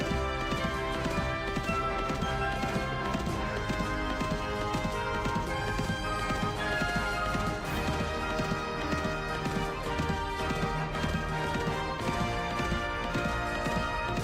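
Horse-wagon hooves in the game Mabinogi clip-clop at a fast, even pace throughout, set against a dense, constant music bed that never lets up.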